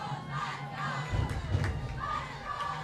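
High school varsity football crowd in the stands cheering, a steady wash of many shouting voices with several louder swells and thumps, heard from within the stands at moderate distance.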